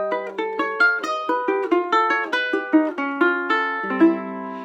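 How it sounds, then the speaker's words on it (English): An augmented chord is picked out on guitar, its notes plucked one after another in a rippling arpeggio of clear, ringing tones that overlap and sustain, close and solo. "Now the augmented chord is a very mysterious sound."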